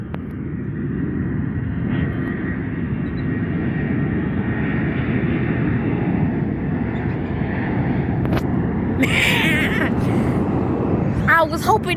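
A jet airliner with CFM engines at Las Vegas airport gives a steady, loud broadband roar that holds throughout, with brief higher noises near the end.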